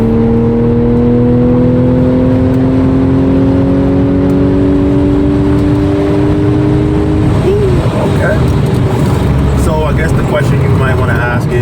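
Audi S5 engine pulling hard under full acceleration, a loud steady rising drone with whine climbing in pitch for several seconds before easing off into road and wind noise.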